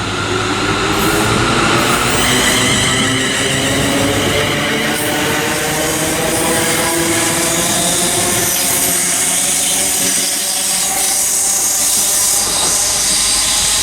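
ScotRail trains departing and arriving at Paisley Gilmour Street station, with Ayr and Wemyss Bay services to Glasgow Central and a class 380 unit. Loud, close, continuous rumble with rolling wheel noise, hiss and squeal, and no talking.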